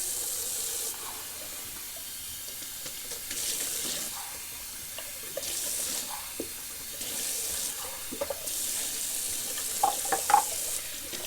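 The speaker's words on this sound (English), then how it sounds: "I got lather on my face, which I will rinse off" A bathroom tap runs steadily while lather is rinsed off a face, with water splashing in repeated bursts against a soft, continuous hiss of flow; close and fairly quiet, with no talking.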